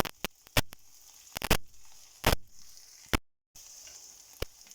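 Broccoli crackles and sizzles in a hot pan, with sharp irregular pops and spits over a soft frying hiss, close up.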